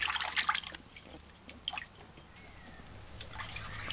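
Tap water runs and drips in a kitchen sink as a carrot is rinsed, soft uneven trickling and splashes that are fairly quiet and close, with no talking.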